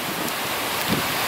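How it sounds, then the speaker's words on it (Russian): Waves break on the Amur River near Khabarovsk, a broad continuous rushing wash with wind buffeting the microphone, steady and fairly loud with no voices. "Посмотрите, как вот волны бьются."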